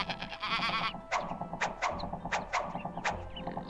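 Cartoonish sheep bleats from the adventure game Gilbert Goodmate and the Mushroom of Phungoria, a wavering burst followed by a series of short evenly spaced bleats, moderately quiet with no talk.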